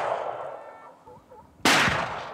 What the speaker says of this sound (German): Das ist die einzige Gelegenheit zum Schuss für die am Wegrand postierten Jäger.